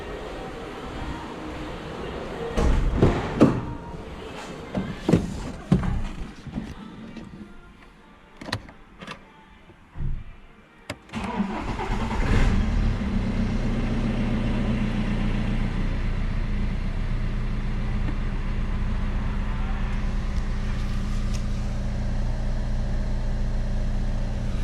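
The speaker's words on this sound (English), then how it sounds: "So now I'm going to start the engine to see how the belt and the crankshaft pulley is working." A BMW 120d diesel engine, just fitted with a new crankshaft pulley, starts after some scattered clicks and clunks, then settles into a steady, close idle rumble.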